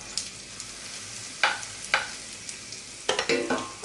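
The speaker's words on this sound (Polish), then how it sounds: "smażymy do skończenia składników." Oil sizzles steadily in a pan as onion fritters fry, with scraping stirs and a few soft clatters from a utensil, close up and without speech.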